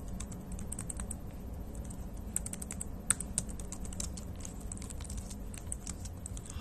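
Steady, fairly quiet clatter of keys as code is typed on a computer keyboard, an irregular run of light taps with one sharper keystroke midway, over a low room hum and no talking.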